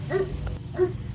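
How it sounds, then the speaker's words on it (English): A dog barking twice outside at the front of a house near a rose bush, two short moderately close barks spaced under a second apart over low background noise. "So right here, you can hear my dog barking."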